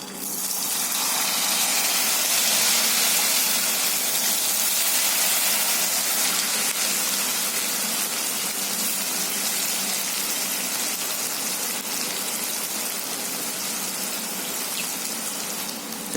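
Marinated curd chicken pieces for Chicken 65 fry in hot oil over a medium flame, giving off a loud, continuous broadband sizzle and hiss that stays steady throughout.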